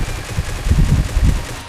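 Rapid automatic fire from a Groza rifle in the mobile battle-royale game PUBG Mobile, with a dense, continuous run of booming shots that swells in the middle, loud and close with no talking.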